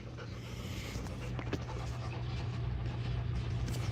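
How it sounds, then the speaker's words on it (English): Dogs pant in rapid, breathy rhythm close by, with faint whines mixed in, over a low steady background hum. "Is the rest of this just him showing his dogs?"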